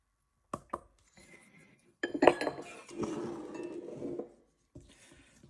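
Flour, salt and softened butter are stirred together in a bowl for a tart crust, with scraping and clinking of a utensil against the bowl in short bursts and a longer stretch of rubbing, close and fairly quiet.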